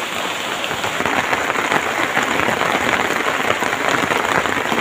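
Heavy rain pours down steadily on a forest shelter in a dense, hissing roar with no let-up, loud and close, with no voices.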